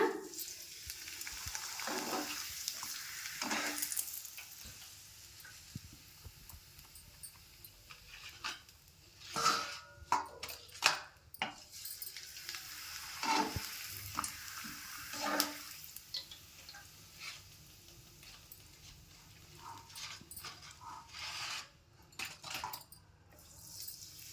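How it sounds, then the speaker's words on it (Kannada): Masala papad being deep-fried one at a time in hot oil: a steady sizzling, crackling fry with scraping stirs and clinks of a utensil against the pan, rising in bursts as each papad goes in. "ಎಣ್ಣೆಯಲ್ಲಿ ಹಾಕೋಣ ಎಣ್ಣೆ ಕಾದಿದೆ ಒಂದೊಂದೇ ಕರೆದು ತಕ್ಕೊಳ್ಳೋಣ"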